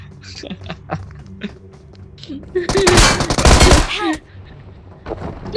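A burst of rapid automatic gunfire in a video game, loud and dense for about a second and a half, with scattered quieter game sounds and faint voice-like tones before and after.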